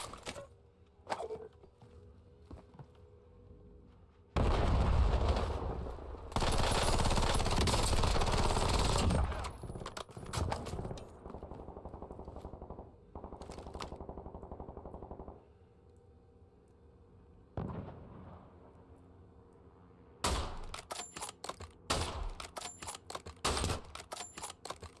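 Rapid automatic gunfire from the video game Warzone, with bursts of shots in loud, dense clusters broken by quieter gaps and single cracks, ending in a string of sharp rapid reports.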